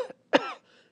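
A storyteller imitates a cough with the voice, giving a short throaty burst and then one strong cough, with a faint trailing breath after it.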